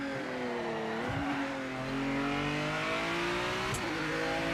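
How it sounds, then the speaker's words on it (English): Race car engines roar in the Project Motor Racing video game on PS5, a loud continuous drone that climbs and shifts in pitch through gear changes. "Sounds like cars compared to the LMU."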